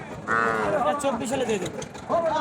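A heifer calf at a cattle market lets out drawn, wavering moos, two calls close by, amid background market chatter.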